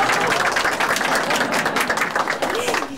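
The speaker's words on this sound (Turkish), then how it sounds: "Ne kadar çok alkışladılar seni öyle" An audience breaks into loud, dense applause, a continuous wash of many hands clapping together with some voices mixed in, sustained at full strength for the whole stretch.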